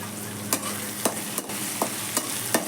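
Tomato frying with turmeric and chili powder in oil, a loud continuous sizzle with regular scraping strokes of a spatula roughly every half second.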